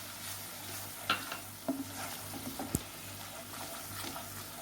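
A pan of chili and coriander powder fries with a steady, soft sizzle while a spoon stirs through it, giving a few light scrapes and taps close by, with no one talking.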